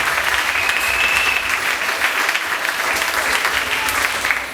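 A church congregation breaks into loud, sustained applause, a dense wash of clapping that fills the room evenly for several seconds before easing slightly at the end.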